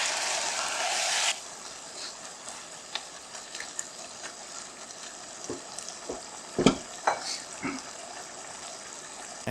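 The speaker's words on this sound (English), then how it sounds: "Sear your meat all around then, once it becomes beautiful and brown." Beef searing in a pan for chili, a bright hiss of sizzling that fades into quieter frying, with scattered clinks and scrapes of stirring up close.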